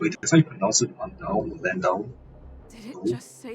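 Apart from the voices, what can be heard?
No distinct noise like a dog, phone or traffic.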